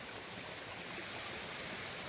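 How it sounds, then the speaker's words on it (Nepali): Water from a spring source runs steadily down a slope in a rural village, a constant broadband rush with no talk over it. "पानीहरू ब्लक भयो, यहाँबाट झरिरहेछ।"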